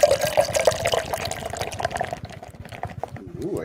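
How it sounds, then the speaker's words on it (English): Beer poured from a can into a glass, close and bubbly with fizzing, gurgling liquid and a trailing drip and foam hiss as the pour slows. "I hear a beer being poured"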